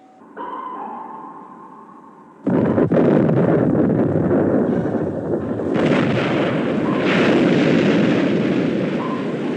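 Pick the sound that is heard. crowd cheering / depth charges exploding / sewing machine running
depth charges exploding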